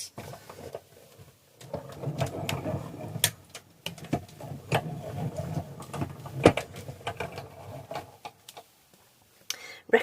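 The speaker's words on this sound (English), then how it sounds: "I'm just going to pop that through the Stampin' Cut and Emboss." A Stampin' Cut and Emboss machine pressing die-cut paper makes close mechanical grinding and creaking with irregular clicks and thumps as the plates roll through.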